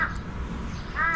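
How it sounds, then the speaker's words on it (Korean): Crows caw outdoors in Busan, two loud, close, harsh calls at the start and end of a short moment, with steady background noise between them. "까마귀들이 울어야 하는 타이밍을 기가 막히게 잘하네요"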